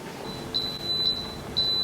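A series of thin, high electronic beeps from an Instant Pot signalling cooking is done, a few short bursts spaced apart, over a quiet room hum.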